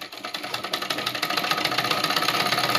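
Sewing machine running steadily while stitching palazzo fabric, its needle chattering in a fast, even mechanical rhythm close up, with no voices over it.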